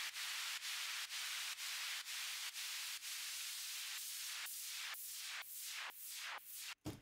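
Equalized white noise from Ableton's Operator synth, with reduced treble and the low end removed, plays as a string of rhythmic hissing bursts; the later bursts sweep downward as they fade.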